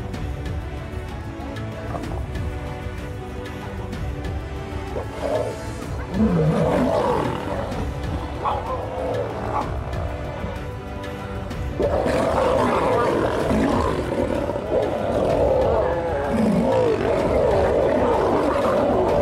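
A lion roars in the wild, deep rumbling roars repeating over more than fifteen seconds, loud and continuous under a layer of narration.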